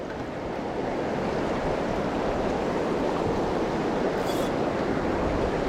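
Rolling pocket water of a river runs steadily and close by, a dense broadband rush with no break, as if churning between rocks in a trout stream.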